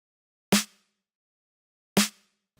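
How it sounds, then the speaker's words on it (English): Two hits of a fat snare drum sample with its low end trimmed, for an instrumental remake; each crack is sharp and bright with a short ringing body, spaced well apart, dry and alone. "It's a nice sounding snare"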